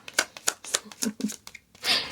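Tarot cards are shuffled by hand for a reading, a series of close, quick riffling bursts and slaps in an irregular rhythm, ending in a longer flutter.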